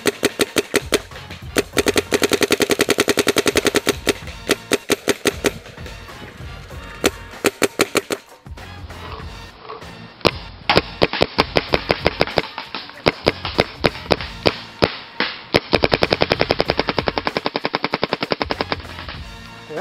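Planet Eclipse GEO 2.1 paintball marker firing in semi-auto with cheap paint, giving rapid bursts of sharp, close pops, then uneven runs of shots with brief pauses between strings.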